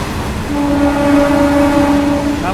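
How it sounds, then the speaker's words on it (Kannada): A fast goods train passes a MEMU passenger train halted at a station on the Vijayapura to Hubballi line, giving a loud steady rumble with a sustained horn tone through most of it. No voices. "ಮತ್ತಿಲ್ಲಿ ಫಾಸ್ಟು ಗೂಡ್ಸ್ ಟ್ರೈನ್ ಕ್ರಾಸಿಂಗ್ ಆಗ್ತಿದೆ."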